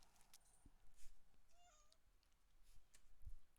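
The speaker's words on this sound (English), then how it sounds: "Sorry, my cat is complaining at me." A pet cat meows and complains indoors, a few faint, thin rising calls heard alone against quiet room noise.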